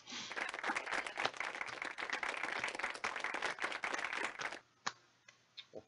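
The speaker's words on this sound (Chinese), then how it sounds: "这个鼓掌是非常的罐头" Canned applause from the video game Chinese Paladin, a dense burst of many hands clapping for about four and a half seconds, then cutting off to a few isolated ticks and taps.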